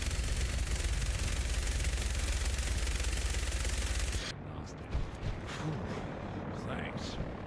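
Video game gunfire while shooting enemies in Fallout 4, a dense rapid automatic burst that cuts off abruptly midway, followed by scattered quieter shots and effects.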